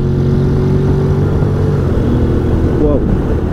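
A 2021 Honda Forza 750 motorcycle pulls hard in third gear in sport mode, its engine note a loud, steady drone with a rising pitch toward the end.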